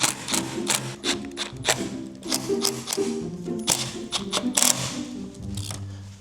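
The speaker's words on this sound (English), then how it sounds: "And then we just reinstall the screws." Screws being driven back into the frame of a glass panel on an iron door, with close, loud metallic clicks and ratcheting rattles repeating irregularly throughout, and no talking.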